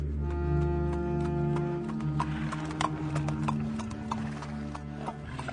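Donkey hooves clip-clop in a steady, close walking rhythm, heard as a sound effect over a low sustained musical drone.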